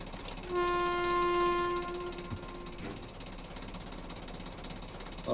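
In the Train Simulator video game, a train horn sounds one sustained, loud blast of about a second and a half over a low rumbling run, followed by steady rolling rail noise with no talking.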